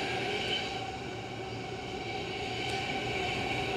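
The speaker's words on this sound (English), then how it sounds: "That's when trains just travel through the station, don't stop" An Auckland Metro train runs through a station without stopping, giving a steady, continuous rail rumble with faint wheel noise at an even level and no speech.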